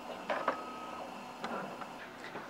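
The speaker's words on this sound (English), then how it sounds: "The 3D printer is doing basically the same thing, only at a much faster rate" A 3D printer extrudes plastic at a community college, a faint mechanical whir with light intermittent ticks and clicks heard close by.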